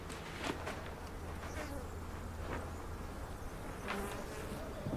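Bees buzz steadily outdoors in Oman in a constant, busy drone, with a few insects passing closer now and then.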